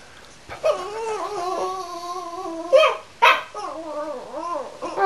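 A dog gives long wavering howls that rise and fall like singing, broken by a couple of sharp yips, close and alone with no talk.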